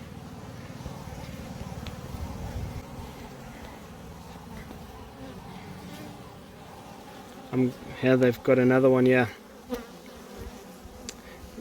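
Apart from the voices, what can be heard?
honey bees buzzing around a hive with Capensis bees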